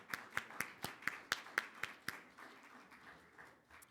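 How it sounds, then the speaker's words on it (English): A small group at a medical conference gives a brief, sparse round of applause, about nine distinct claps in a loose rhythm that thin out and fade after two seconds. "We can give them a round of applause."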